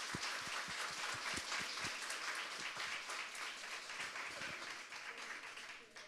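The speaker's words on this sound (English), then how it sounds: "if we can just give all of our trainers and our volunteers a round of applause again" An audience at a graduation gives a round of applause for trainers and volunteers, a dense sustained burst of clapping from many hands that slowly thins toward the end, with a few individual claps standing out early.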